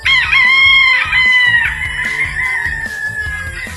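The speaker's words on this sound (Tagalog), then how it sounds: "Napakaraming manok" Derby rooster crows loudly and close at the start on a farm, drawn out and fading, while hens cluck in low, scattered bursts underneath.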